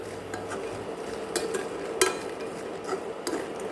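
Makhana (fox nuts) stirred while roasting in a pan, a close scraping and rustling with a few sharper clinks of the spoon against the pan.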